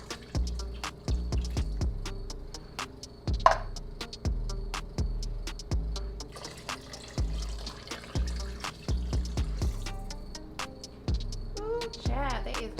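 Canned chicken broth is poured into a pot of lasagna soup, a continuous liquid splash and gurgle under a run of regular knocking ticks, fairly close.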